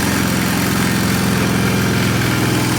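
A trashed Polaris 325 Magnum four-wheeler engine idles fast and steady at close range, a loud continuous mechanical drone with no talk over it.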